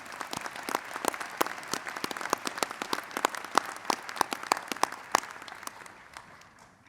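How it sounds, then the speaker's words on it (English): Steady applause from a large audience at a Massey University graduation ceremony in Manawatū, dense overlapping claps with a few sharper individual claps standing out, continuing for several seconds before thinning at the end. "another round of applause for you"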